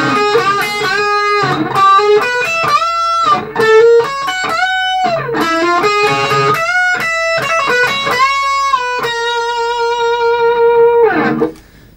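Electric guitar solo from a rock song, off its album, played as a melodic lead with bends and sustained notes, close and loud, ending on a long held note before a brief pause.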